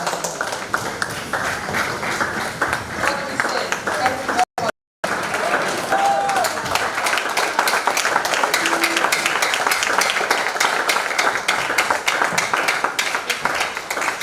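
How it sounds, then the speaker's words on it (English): A conference audience at an artificial intelligence event gives a long, loud round of applause, continuous dense clapping with a brief gap, while a voice speaks briefly over it. "Let's go now finish the round of applause."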